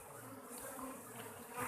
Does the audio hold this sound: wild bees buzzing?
yes